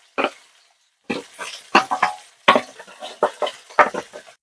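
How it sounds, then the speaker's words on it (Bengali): Katla fish head fries in a pan while mung dal cooks in a pot, heard as short bursts of sizzling and stirring scrapes separated by brief pauses, close up with no talk. "এখানে মাছের মাথা ভাজা হচ্ছে, আর এইদিকে ডাল বসিয়ে দিয়েছিলাম।"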